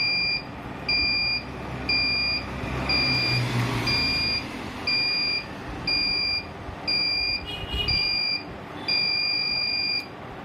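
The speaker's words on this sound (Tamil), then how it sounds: "long beep" The timer alarm on an Ultra Perfect mixer grinder beeps loudly and close, giving a series of shrill tones about a second long with brief pauses between them, over a low background rumble.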